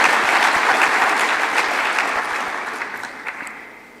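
A large audience at an investment conference claps steadily in a hall, the dense applause loud at first and gradually thinning and fading toward the end, with no voices over it.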